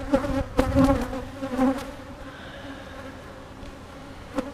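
Honey bees buzz around a freshly opened hive, a soft, continuous buzzing with a few louder bumps and thuds close by early on before it settles into a faint, even hum.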